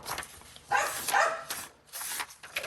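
Several dogs bark in short bursts somewhere off in a house, two or three clustered volleys at middling volume, with quiet gaps and no speech.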